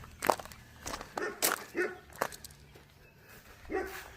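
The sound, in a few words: dog barking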